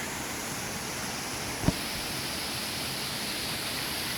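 River near Da'ai Waterfall, a constant broadband rush of flowing water heard steadily from start to finish, broken only by one brief knock partway through.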